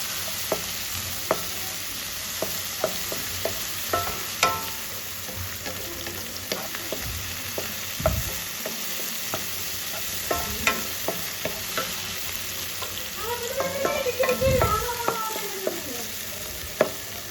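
Tomatoes fry and get stirred in a pan for fried rice, a low steady sizzle broken by repeated sharp scrapes and clinks of the spatula, with a busier burst of stirring near the end.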